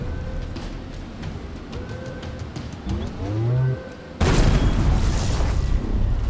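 Tank gun firing in the video game Halo Infinite, a heavy booming blast followed by a loud sustained explosion rumble, after a stretch of game sounds and a low droning tone.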